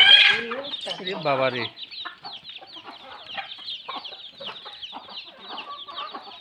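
A small household flock of chickens with chicks clucks and chatters in a steady stream of short, close calls, with a person speaking briefly at the start.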